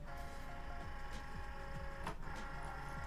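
A Cricut cutting machine draws a vinyl-loaded mat in for a sunset hoodie project: a steady motorized whir with faint rhythmic clicks and a brief louder mechanical whoosh midway, close and continuous with no talking.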